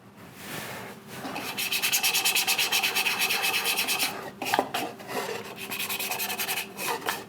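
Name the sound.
sanding a burned wooden bowl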